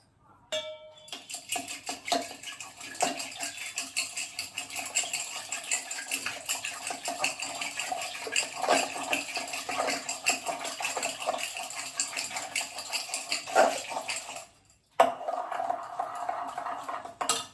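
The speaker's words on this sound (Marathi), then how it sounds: "हे जे आपलं दही आहे ना, हे छान घुसळून घेते" Yogurt churned by hand in a pot to make chilled buttermilk, a rapid continuous clatter and swishing of the churner against the vessel, close and steady, stopping briefly near the end.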